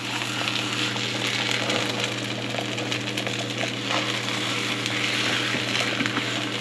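Oil spluttering around a Vietnamese banh xeo crepe in a pan gives a steady, moderately loud sizzle with faint crackles and a low background hum throughout.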